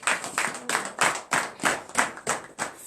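A church congregation at a morning prayer service in Benin claps in acclamation to Jesus, steady rhythmic unison claps about three per second, loud and close, with no talk over them.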